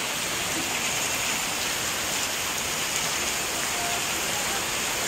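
Heavy rain pours down in Guntur in a dense, unbroken hiss of water striking surfaces, loud and steady from start to finish with no voices.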